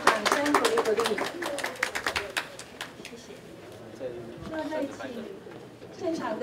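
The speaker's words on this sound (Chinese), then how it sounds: "来，请大家现场大家掌声鼓励鼓励。" Audience applause at a plaque unveiling for a hospital breast medicine centre: a burst of clapping from a small crowd in the first few seconds that thins out, with voices and chatter under it.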